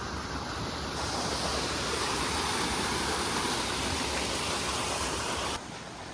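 A waterfall and stream rush in a steady, loud, broadband roar that fills the whole clip without pause, with no voices over it.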